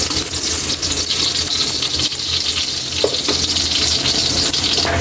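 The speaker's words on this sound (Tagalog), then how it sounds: "Yan mo mag-golden brown yung bawang." Chopped garlic fries in hot oil in a pan, a continuous close sizzle with soft stirring scrapes and a brief clink of a utensil partway through.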